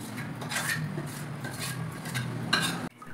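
Ground rice-and-lentil dosa batter poured into a container at home, giving a steady close run of wet scraping with light metallic clinks against the vessel and no talking.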